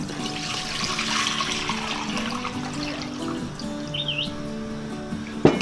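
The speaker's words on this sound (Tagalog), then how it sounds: "ilalagay na po natin itong ating 6 cups na tubig dito sa ating cooking pot" Six cups of water poured into a cooking pot for a cornstarch mixture make a steady, fairly loud splashing rush, with bird chirps faint in the background.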